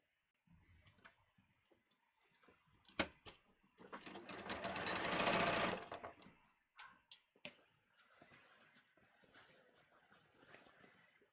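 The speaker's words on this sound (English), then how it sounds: "let's just sew this together" A home sewing machine stitches contoured pants pieces together, with a short burst of rapid, even whirring stitches amid scattered clicks and handling taps, fairly quiet and close.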